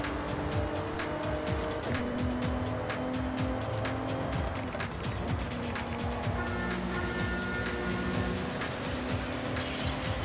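A racing car engine in the Forza Horizon 6 video game drones steadily with tire noise and a busy mechanical roar throughout, continuous and fairly loud, no voices.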